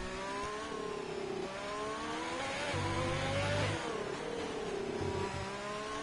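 An F3 race car in a sim racing round at the Mexico circuit, its engine revving hard through the gears. The pitch climbs, drops at each shift, then climbs again, loud and steady throughout.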